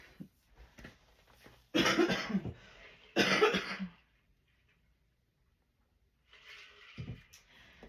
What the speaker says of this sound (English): that little cough there 2 days ago